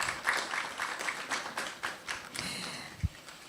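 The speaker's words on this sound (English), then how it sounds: "Shall we give another round of applause?" An audience at a live forum on misinformation in the digital age gives scattered, fairly faint applause, with individual claps and taps standing out over a quiet room.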